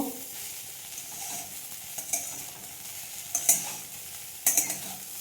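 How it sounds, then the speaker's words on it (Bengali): Curry leaves, cumin, mustard seeds and flattened rice sizzle gently in a pan, with a steady low frying hiss broken by a few sharp crackling spatters and stirring scrapes. "আর এইটাতে প্রথমে ফোড়নে ফোড়নে দিয়েছি কারি পাতা একটু জিরেও দিয়েছি একটু সর্ষে দিয়েছি"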